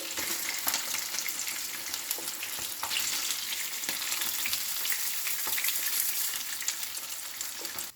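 Fish pieces frying in hot oil for dahi machli, a loud unbroken sizzle with frequent crackling spits and pops, close up and with no talking.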